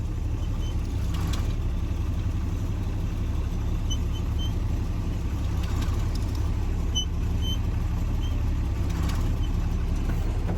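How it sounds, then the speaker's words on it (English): A tractor engine runs steadily while the machine is driven, a constant low mechanical drone with no speech, close and even throughout. "Adventures in tractor driving."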